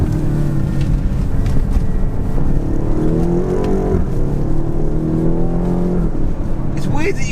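BMW X6M SUV engine accelerating hard on the road, a loud continuous rising engine note with gear changes heard from inside the cabin, and a voice briefly speaking near the end.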